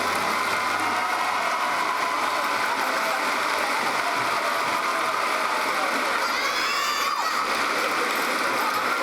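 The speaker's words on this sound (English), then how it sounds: "Give them a big round of applause again" A large audience at the 2017 National Science Olympiad awards ceremony applauds and cheers in a dense, steady wash of clapping that sounds almost like rain, loud and continuous, with voices rising through it.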